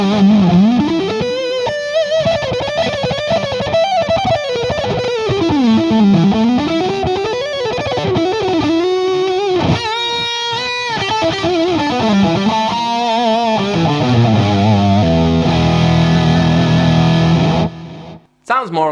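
Electric guitar played through a Joyo Ultimate Drive overdrive pedal set to high, gain and tone near maximum, giving a loud, fuzzy, distorted tone with sustained bends and chords that then drops to quieter picked notes before stopping.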